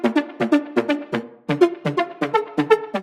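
A short, staccato synth lead, gritty from a bit crusher, firing rapid chopped notes in a bouncy rhythm, close and punchy with no talking.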